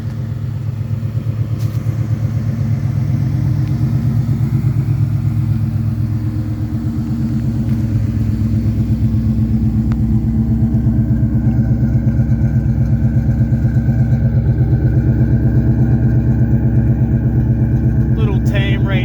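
A Coyote-swapped Fox Body car with a Mach 3-inch exhaust idles steadily at close range, a loud, continuous low rumble that stays even throughout.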